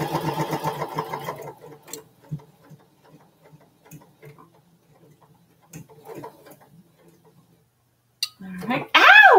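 Sewing machine stitching a seam, a brief rapid mechanical whirring burst at the start, then quiet with sparse small clicks and handling noises, and a short voice near the end.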